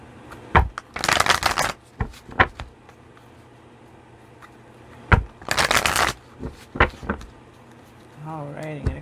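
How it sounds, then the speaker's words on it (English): Tarot cards being shuffled by hand: two long riffling bursts, each about a second, separated by lighter taps and handling clicks, close and fairly loud with no talking. "I'm going to grab 3 shuffles here."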